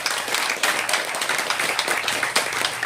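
An audience at a film music and trailer launch event applauds, steady dense clapping with slight swells, filling the hall without any talk over it.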